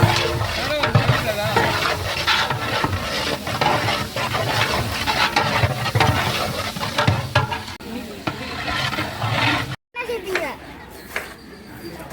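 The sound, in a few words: onions and green chillies frying in a pan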